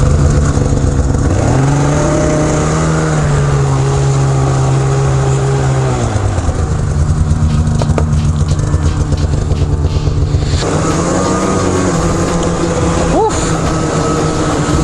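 A Polaris Assault Boost snowmobile engine revs loudly with rising and falling pitch, then settles into a steady drone, while a person talks over it.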